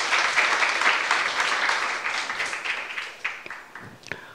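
A church youth-group congregation claps and applauds steadily through a sermon, a dense wash of many hands that thins slightly toward the end, with no voices over it.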